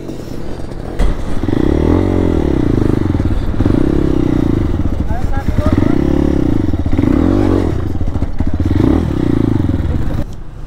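A motorcycle engine runs loud and near, rising and falling in repeated revving waves every couple of seconds, with clatter over it.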